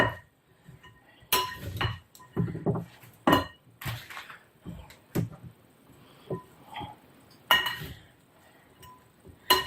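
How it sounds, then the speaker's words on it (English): Spoon clinking and scraping against a bowl while mixing a creamy slaw dressing made without mayonnaise, with irregular bursts of sharp clinks and soft scrapes close by, between quieter pauses. "So then I can stir a lot of this up."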